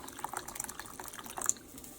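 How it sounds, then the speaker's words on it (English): Water poured into a pan for tomato rasam, a soft splashing and trickling stream with small irregular bursts, close but quiet, running steadily for about two seconds without talk. "Approximately I'm adding 2 more cups of water to this."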